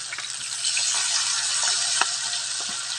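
Garlic frying in hot oil alongside oarfish pieces makes a dense, steady, close sizzle with a few faint clicks from stirring and no voices.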